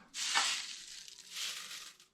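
Dried home-grown hops being poured and stuffed into a food processor blender bowl, a dry rustling crunch in two broad swells, close and soft with no talking.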